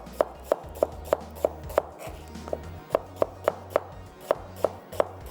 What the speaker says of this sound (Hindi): प्याज को कर लेंगे स्लाइस